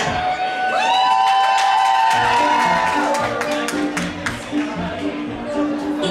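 Audience at an amateur drag show erupts in loud cheering, whoops and clapping, a dense crowd roar with high shouted voices and scattered claps that carries on for several seconds.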